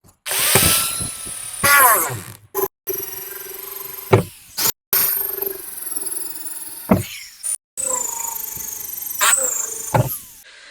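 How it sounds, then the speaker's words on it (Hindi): Power drill boring a hole in a 1000-litre plastic water tank: several whirring bursts that start and stop with short silent gaps, buzzing near and loud, with a high whine in some runs. "हमने ड्रिलिंग के मदद से हमने टैंक में हॉल किया है"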